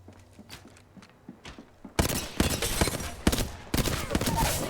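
Gunfire in a shooter video game: scattered single shots, then a dense, loud burst of rapid fire with brief gaps, close and overlapping.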